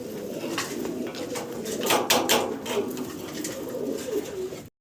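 Several exhibition pigeons, including tiger, blue and black colored birds, coo together in a continuous murmuring chorus, close and moderately loud, ending abruptly.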